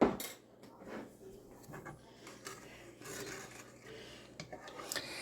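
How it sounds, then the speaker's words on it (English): Orange chicken being stirred in a pan, with soft continuous scraping and rubbing of a utensil across the pan surface plus occasional light knocks, fairly quiet and close. "Now Amy's going to start stirring again."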